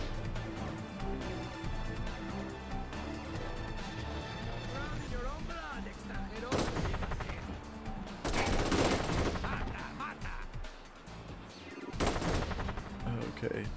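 Gunfire in the video game Wheelman, bursts of shots mixed with engine noise and game music, with people talking over the top throughout.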